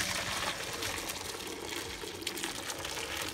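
Boiled nopales being drained, with water running and splashing steadily throughout as it pours off into a colander, loud and close with no talk.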